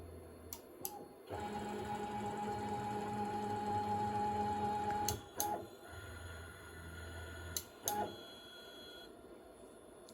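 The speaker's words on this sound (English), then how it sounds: "I can now hit home, and it will go through the sequence" A FOXAlien XE-PRO CNC machine running its homing cycle: a steady stepper-motor whine for several seconds, then brief motor bursts and clicks as the axes seek their limits, close and moderately quiet.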